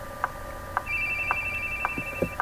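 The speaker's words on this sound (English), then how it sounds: "Here's that phone again." Telephone ringing in The Boogie Man video game, a sequence of short, evenly spaced electronic rings about half a second apart, clear and near over a low game ambience with a faint sustained tone.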